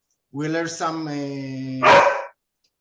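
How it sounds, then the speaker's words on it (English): A pet dog barks in a home during an online talk, a single close, fairly loud bark with a drawn-out, whining tone that ends in a sharper yelp. "my dog is barking"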